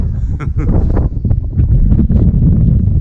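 Wind buffets the microphone outdoors on a farm, giving a loud, continuous low rumble with gusty swells throughout and no clear voice.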